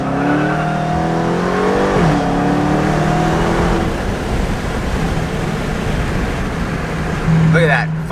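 A 2019 Dodge Hellcat launches hard from a dead stop, its engine roaring up through rising revs before shifting, with a brief tire chirp near the end and someone talking over it.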